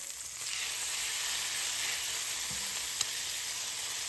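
Chicken breast sizzles in butter in a stainless steel pan after being flipped: a soft, steady frying hiss with a brief clack from the turn partway through, with no voices.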